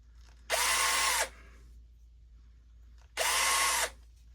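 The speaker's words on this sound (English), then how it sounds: "Got to drill some holes in this bucket." Power drill boring holes in a bucket, two loud bursts of steady whine, each under a second long, with a quiet pause between them.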